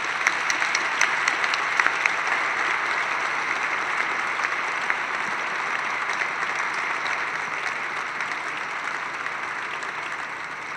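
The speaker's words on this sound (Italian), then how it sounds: "cominciamo con un applauso a Mickey Wolson." An audience at a book presentation applauds in a long, even wash of clapping from many people, steady and moderately distant throughout with a few sharper claps standing out early on.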